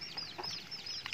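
Chickens, a mix of village and Thai breeds, cluck softly in a short burst of quiet, close calls during a morning feeding.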